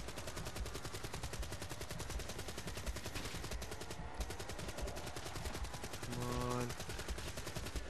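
Constant rapid fire from a gun turret shooting at zombies in Call of Duty Black Ops 3 Dead Ops, a dense, unbroken machine-gun rattle with a brief tonal chime near the end.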